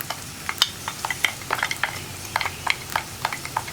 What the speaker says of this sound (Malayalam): ഇനി ഈ മസാലയും കൂടി ചേർത്ത് നന്നായിട്ട് നമുക്ക് വഴറ്റിയെടുക്കാം